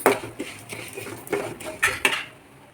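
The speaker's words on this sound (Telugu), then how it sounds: "నువ్వులు వేసుకుని ఆయిల్లోకి అలాగే వేయించుకోవాలి" A metal spoon scrapes and clinks against a pan in a steady stirring rhythm as sesame seeds fry in oil, close and fairly loud, with no voices.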